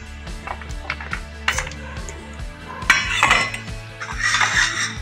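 Mola carplet fish and thin-cut potatoes tipped into a bowl for marinating, heard as a run of close, loud clinks and scrapes of utensils against the dish, with a rattling clatter near the end.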